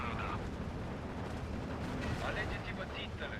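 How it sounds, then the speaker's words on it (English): A heavy SU-122 shell slams into a target in the Steel Division 2 WWII strategy game, a broad rumbling blast with a dense low roar sustained over a few seconds amid battle noise, with voices faintly underneath. "that was a big old hit from the SU-122"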